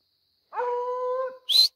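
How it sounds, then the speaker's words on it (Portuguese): A young hunting dog in the woods during a night armadillo hunt lets out a single sustained, wavering howl of about a second, then a short high yelp, close and clear against silence. "Os cachorrinhos tá ali."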